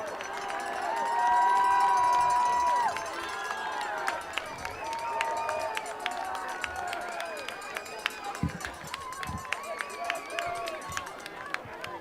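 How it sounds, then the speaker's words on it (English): Colchester fans cheering and clapping at a high school football game on senior night, crowd noise swelling early then settling into scattered claps and shouts, with whistles and talk mixed in. "you hear a number of applause here from the Colchester fans"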